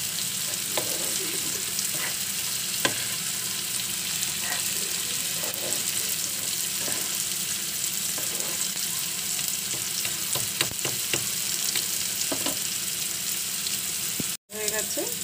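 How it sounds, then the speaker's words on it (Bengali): Oil sizzles steadily in a hot pan while a fish curry is cooked, a continuous close frying hiss broken by occasional light scrapes of stirring throughout. "ভালো করে ভাজবো। দেখুন তেল বেরোতে শুরু করেছে"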